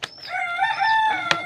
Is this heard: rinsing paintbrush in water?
no